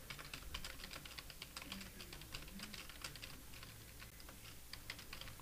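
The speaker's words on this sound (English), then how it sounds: "I'm just going to type some text here." Rapid, steady typing on a computer keyboard, close and fairly quiet, with a continuous patter of key clicks and no talking.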